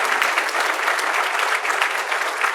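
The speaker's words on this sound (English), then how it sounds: "Let's give Lisa Hernandez, Kelly Cassidy, and Robin Gable, and all those folks that made Illinois a great state for energy a round of applause." Audience applause at an address by an Illinois House Speaker honoring people who made the state great for energy, a dense, steady clapping from a sizable crowd that holds evenly loud throughout with no voices over it.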